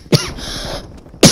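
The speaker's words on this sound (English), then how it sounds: "I'm coughing a lot, because I honestly have been coughing so much this morning" Two sharp coughs, a short pause between them, break through the quiet background of a Call of Duty gaming session, close and loud.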